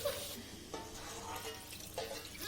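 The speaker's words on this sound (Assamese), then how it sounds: "এতিয়া মই গৰম পানী দিম।" Hot water poured into a pan of frying pigeon meat sets off a loud, continuous sizzle and bubbling hiss with light stirring clatter, heard close up with no talk.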